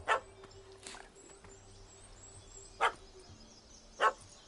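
Dog barking in The Witcher video game, three sharp separate barks spaced a second or more apart over a low ambient background.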